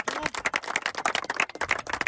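Audience applause at a coaching academy event in Bhojpur, Bihar: dense, fast, close hand clapping from many people, continuous and evenly loud throughout with no talking.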